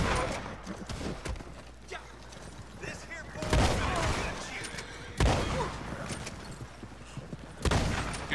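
Gunfire in the video game Red Dead Redemption, with three heavy shotgun-like blasts at spaced intervals over a constant ambient bed of game sound. Someone talks in between.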